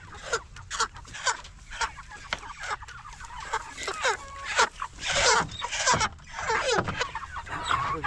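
Chickens at a coop cluck and squawk in a busy, close chorus of overlapping calls, with a few louder bursts throughout.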